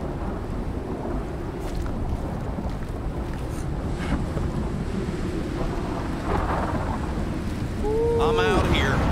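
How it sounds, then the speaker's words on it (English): Heavy storm wind roaring steadily in the survival video game Icarus, a loud continuous rushing gust with low rumble that swells slightly toward the end. "Another heavy storm coming in."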